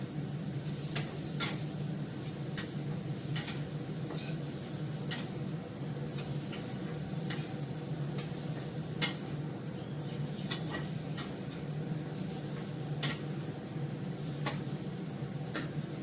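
Masala being stirred and fried over low gas in a karahi, a continuous sizzle with sharp periodic scrapes and clicks of the spoon against the pan, steady and close.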